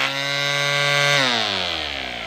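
WORX WG184 cordless string trimmer, a battery-powered electric trimmer, spinning at a steady high-pitched whine that drops in pitch midway as it winds down, close and loud with no talk.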